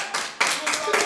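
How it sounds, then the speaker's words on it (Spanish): A short burst of clapping from an awards ceremony crowd, loud and dense, lasting about a second. "¡Un aplauso!"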